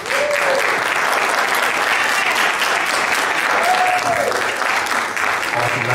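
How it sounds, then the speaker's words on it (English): A church audience applauds a blended and step families discussion panel, giving a loud, dense, sustained round of clapping with brief cheering voices rising above it. "Let's give our panel a round of applause."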